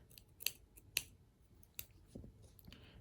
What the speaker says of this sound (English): I'm going to trim this little bit of thread off